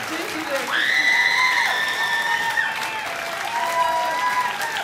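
Crowd applause at a concert marking a women's band's fifteenth anniversary, with sustained clapping and a loud drawn-out whistle or cheering voice riding over it.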